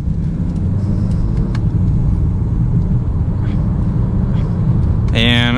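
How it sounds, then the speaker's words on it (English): Inside a 2022 Honda Accord Sport SE under moderate acceleration with paddle shifters, a steady low engine and road rumble fills the cabin, with a brief voice near the end. "I'm going to use these paddle shifters now. We'll give it a nice moderate acceleration."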